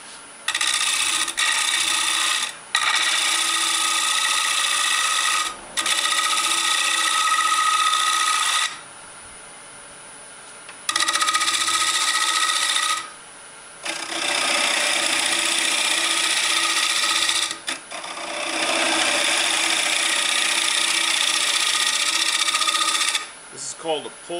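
Scraping and rasping of a gouge on a wood lathe making a pull cut to flatten the bottom of a small turned plate, in loud sustained bursts broken by short pauses.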